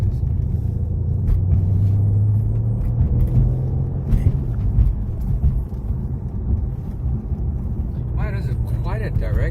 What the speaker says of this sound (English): now we're driving the C63 over some very bumpy roads